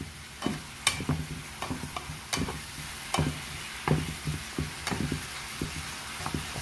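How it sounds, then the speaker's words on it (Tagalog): Meat seasoned with salt fries in a pan with a steady low sizzle, while a utensil scrapes and knocks against the pan in irregular strokes close up; no one speaks. "Siyempre, haluin na natin."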